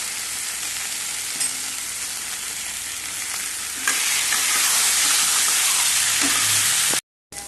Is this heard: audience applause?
no